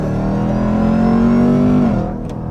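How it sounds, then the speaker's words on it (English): Jeep Trackhawk accelerating hard from idle, a loud close engine roar climbing in pitch for nearly two seconds and then dropping away as the throttle lifts. "so we'll do a off idle, just punch it first."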